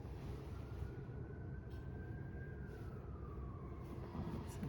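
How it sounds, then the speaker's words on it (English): A faint emergency siren wails outside in the distance, its gliding tone rising and falling once beneath a steady background hum. "There's another siren."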